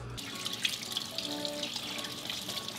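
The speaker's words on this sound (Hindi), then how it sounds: "हस्बैंड चिकन वॉश कर रहे हैं।" Tap water runs steadily into a kitchen sink while raw chicken is washed, a constant splashing hiss with small drips and clinks, close and alone.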